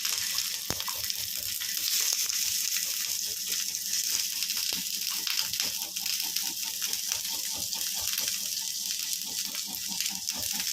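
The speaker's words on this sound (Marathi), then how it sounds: "तेल गरम झाल्यावरती त्याच्यामध्ये मी कांदा टाकणार आहे" Onion frying in hot oil in a pan, a constant crackling sizzle with fine popping heard close and fairly loud throughout, with no voices.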